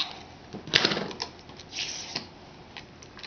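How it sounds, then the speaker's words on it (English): A handheld tape runner lays adhesive strips onto cardstock while a birthday card is made, giving a few soft, close scraping and clicking sounds in short bursts against a quiet room. "We'll go ahead and use our tape runner."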